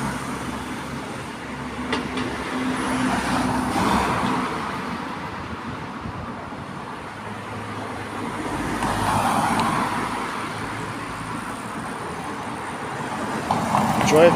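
Road traffic idles and moves at traffic lights in Deal on a sunny day, a steady low rumble of cars and larger vehicles with passing swells, heard from the roadside.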